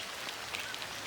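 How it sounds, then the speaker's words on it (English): Steady rain falls outdoors during a walk, a soft, even hiss of drops on surfaces with no voices. "The rain is starting to come down a little bit heavier now"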